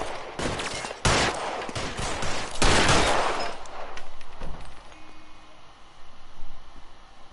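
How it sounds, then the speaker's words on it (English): Bursts of video game gunfire, several sharp shots and rapid volleys clustered in the first three seconds, then quieter scattered pops over a noisy backdrop. "I guess I'm gonna have to shoot him then"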